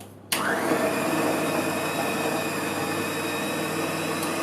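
A loud, steady motorized whir starts abruptly after a short pause and runs continuously at high speed, a food processor churning macadamia shortbread ingredients into fine crumbs.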